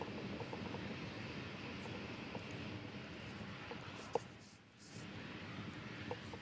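Delta IV Heavy rocket engines roar steadily through ascent as the core booster throttles down, a continuous broadband rumble with a brief dip in loudness near the end.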